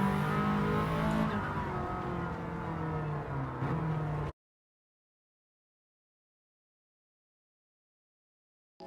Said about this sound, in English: The unmistakable sound. Subaru Impreza. Boxer engine.